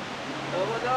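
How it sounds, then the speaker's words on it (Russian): Water pours down the Chegem waterfalls in a narrow mountain gorge in Kabardino-Balkaria in winter, a steady broadband rush that swells slightly over a brief moment, heard without talk. "где находятся одноименные водопады"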